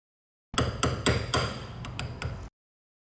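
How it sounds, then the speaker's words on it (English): A hammer taps a small brass punch to drive out a bearing cap on a vehicle U-joint, giving about eight sharp metallic strikes in an uneven rhythm, close and fairly loud with no talk. "I'm going to use a small brass punch to tap it out with a hammer"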